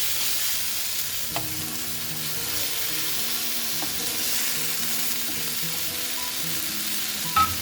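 Kingfish (vanjiram) steaks fry in hot oil, Kerala style, with a steady, dense sizzle and crackle that runs unbroken, fairly close and even, with a few faint clicks.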